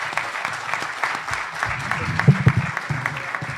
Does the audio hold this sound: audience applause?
yes